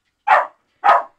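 A dog gives two short, loud, sharp barks about half a second apart, close by, with silence around them.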